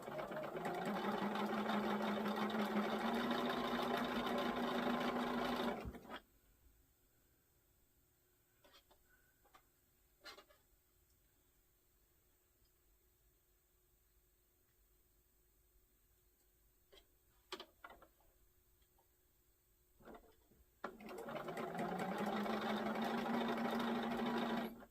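Sewing machine stitching quilt block pieces, a loud steady whirring run of about six seconds, then near silence with a few faint clicks, then another loud run at the end.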